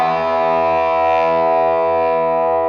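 An electric guitar plays through a Boss Space Echo reverb effect, producing one sustained, distorted, shimmering chord that holds steady and loud with a washy reverberant tail.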